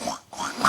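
A human voice imitates a pig-like oinking noise made by a motorcycle-like vehicle, two short nasal grunting bursts separated by a brief gap, close and fairly loud with no other sounds.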